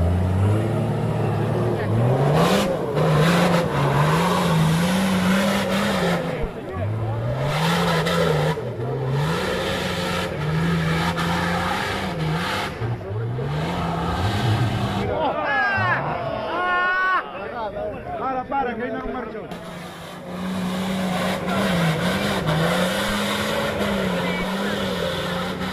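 An off-road 4x4 car's engine revs hard on an extreme dirt trail, rising and falling in repeated loud, close surges with brief dips between them, while people talk and shout nearby.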